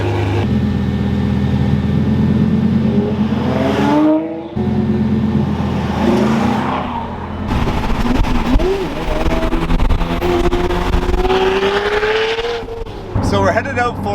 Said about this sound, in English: listen to his new straight pipe catback exhaust